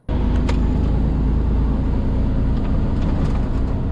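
A heavily loaded Mercedes truck, a standard tag axle model without hub reduction or double drive, climbs a hill with a steady, loud diesel engine drone that holds throughout with no talking.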